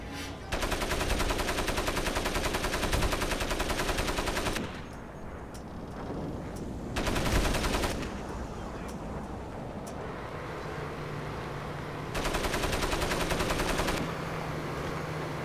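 Sustained bursts of automatic gunfire in the shooter game Crysis Warhead, loud dense volleys around 1–4.5 s, 7–8 s and 12–14 s, with quieter ambient game noise and scattered pops between them.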